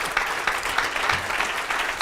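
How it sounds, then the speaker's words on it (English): Audience applause following a comedy talk, a dense, steady patter of many hands clapping at moderate loudness throughout, with a brief cheer near the end. "Give him another round of applause."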